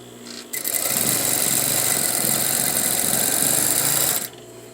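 A sewing machine edge stitches close to a folded fabric edge, running in one steady, loud, high-pitched whirring burst of about four seconds, then stopping abruptly.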